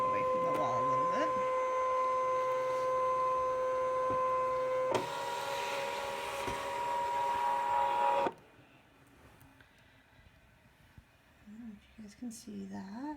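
A Brother ScanNCut cutting machine hums and whirs as it scans and feeds paper in. A steady motor drone runs with a shift in pitch midway, then cuts off to a quieter room where a person talks.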